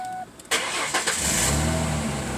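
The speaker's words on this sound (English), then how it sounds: "Car starts, right?" A Mustang engine cranks briefly, then catches and roars to life, settling into a loud, steady running rumble.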